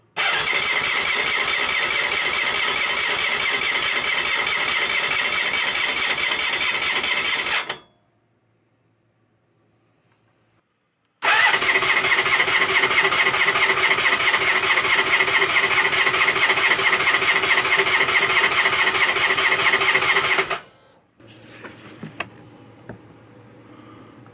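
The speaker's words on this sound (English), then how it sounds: "we'll give it a crank until the oil light goes out" A Honda ST1100 motorcycle engine cranks on the starter after an oil change, a long steady whirring churn for about seven seconds, a pause, then a second ten-second crank, ending with faint clicks and low hum.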